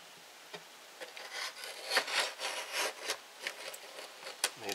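A knife making stop cuts in a wooden stick as it is rolled, giving quiet, close scraping and rasping strokes in an irregular rhythm with no talk.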